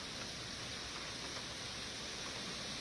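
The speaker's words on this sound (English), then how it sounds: "Delhiites woke up to heavy rain still being witnessed with waterlogging in several parts of the capital city" Heavy rain falling over Delhi, heard as a steady, even hiss of downpour with no breaks, fairly soft and continuous throughout with no voices.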